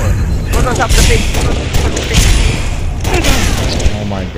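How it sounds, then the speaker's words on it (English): Grenade blasts and bursts of gunfire in a multiplayer shooter video game, loud and close, with repeated booms and rattling volleys throughout while voices talk over the action. "Yo, watch the grenades, man."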